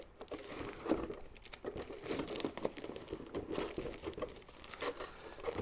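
Masking tape being peeled off the painted body of an HPI Racing Venture SBK model, producing faint, close crinkling and tearing rustles in irregular bursts with no speech.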